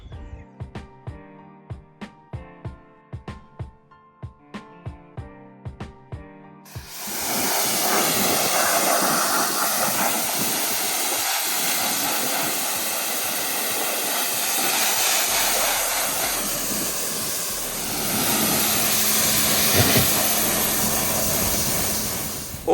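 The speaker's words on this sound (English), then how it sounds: "we've got the entire boat washed off there with some fresh water" A pressure washer spray gun blasts an inflatable boat with fresh water, a loud, steady broadband hiss that starts abruptly after several sharp knocks and runs on with slight surges.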